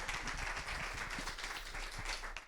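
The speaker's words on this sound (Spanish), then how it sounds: "demos un fuerte aplauso a Mariluz Congosto" Soft applause from a conference audience welcoming speaker Mariluz Congosto to the stage. Steady, fairly distant clapping lasts a couple of seconds and ends abruptly.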